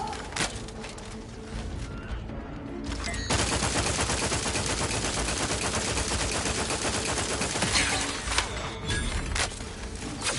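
Sustained rapid gunfire from a firefight in the video game The Outer Worlds 2, a dense, loud barrage of rattling shots that swells after a brief lull and runs continuously to the end with no talk.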